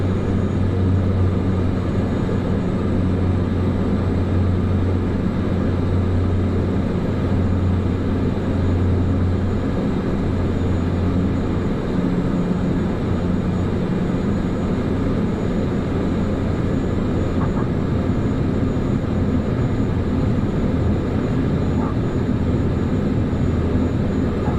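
Airliner engines in Microsoft Flight Simulator 2024, a steady, loud, droning jet roar with a low rumble that holds evenly for the whole stretch without any talking.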